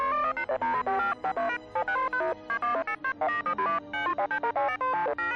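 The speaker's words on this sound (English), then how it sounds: "here's the ringtone droid. I always call it the ringtone droid because that's what it sounds like to me" A droid in the Star Wars: KotOR II video game chirps in rapid, melodic electronic beeps like a phone ringtone, with short bursts and brief gaps in an irregular rhythm, clear and close.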